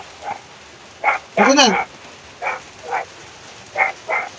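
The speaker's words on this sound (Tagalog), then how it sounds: "Nangingay ang aso." A dog barks in short separate bursts, one of them louder and longer, against a steady rainy hiss outdoors on a wet Christmas day, while someone speaks briefly.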